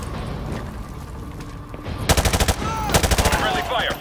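Call of Duty: Modern Warfare 2 gunfire during a raid on a gulag, rapid automatic bursts of sharp, loud shots in two quick volleys over a murky background of distant battle noise.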